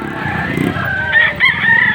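A rooster crows nearby, loud and drawn out, over low background murmur and clucking.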